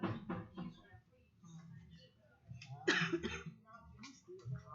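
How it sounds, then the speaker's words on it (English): A few quiet, hoarse coughs and a throat-clearing sound come through faintly during a city council meeting, amid soft background noise and brief murmuring. "I'm still coughing."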